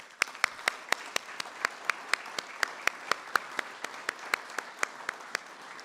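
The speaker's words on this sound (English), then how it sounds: "I want to give them a quick round of applause." Applause in sharp, evenly spaced claps, fairly close and crisp, keeping a steady rhythm for several seconds without any voices.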